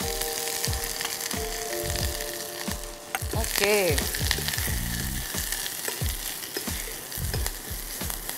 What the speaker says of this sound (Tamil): இப்போ தாளிக்கிறீங்க இல்லையா அதோட.